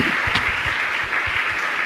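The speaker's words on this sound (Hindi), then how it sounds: "तालियां बजाई लगातार इनके लिए" An audience claps steadily for two sisters at a religious gathering, a dense, even patter of applause that runs through the whole moment.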